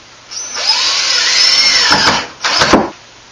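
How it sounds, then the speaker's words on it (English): Power drill driving screws into bathroom trim during a remodel, a close, loud motor whine rising in pitch for about two seconds, then a second short burst. "I have a lot of screws going up in my trim here too"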